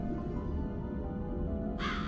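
Crows caw in the video game Psychonauts, a steady cawing over a low ambient game hum with a brighter burst near the end, no talk.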